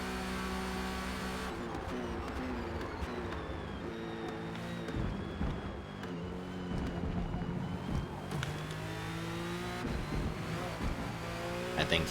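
Cadillac race car at Le Mans in Forza Motorsport: the engine drones steadily and loud, with the pitch rising and falling through gear changes, alongside a second car and quiet talk.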